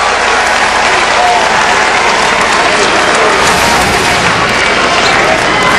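A loud, dense crowd roars and cheers nonstop at a high school basketball game between Findlay Prep and the Northland Vikings, with applause and shouting filling the gym after a foul is called on Northland.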